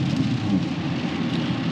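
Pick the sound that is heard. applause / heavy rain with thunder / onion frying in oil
heavy rain with thunder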